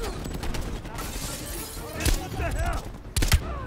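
Gunfire in Black Ops Cold War, with sharp broadband cracks near 2.1 s and 3.3 s standing over dense game sound, voices and music, matching the sniper rifle's heavy single shots.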